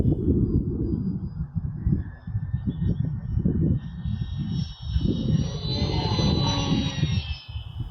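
An FMS Super Cub 1.3 meter high-wing RC model plane flies under a grey winter sky, its faint whining electric motor buzzing above steady wind rumble near the microphone.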